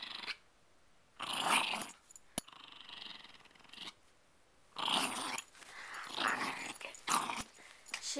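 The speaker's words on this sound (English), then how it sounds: "She can growl." A pet dog growls playfully over a toy it has had since puppyhood, several rough rumbling bursts separated by pauses, close and fairly quiet.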